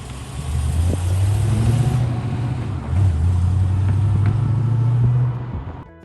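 Deep, burbling Rover 3.5 V8 engine in a classic car running close by, a low rumbling note that swells with two throttle blips before settling and fading out.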